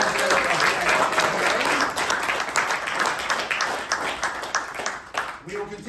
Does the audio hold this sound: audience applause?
yes